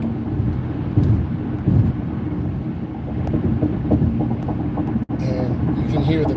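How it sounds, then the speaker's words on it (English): Car tires roll steadily on a highway while driving, a continuous low rumble and road roar with a brief dropout near the end followed by brighter, hissier road noise. "And you can hear the pitter-patter of the tires."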